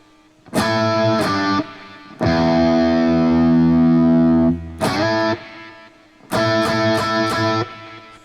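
Distorted electric guitar plays the pre-chorus riff, with sustained chords and a long held chord, then choppy repeated stabs with a delay effect, loud and alone.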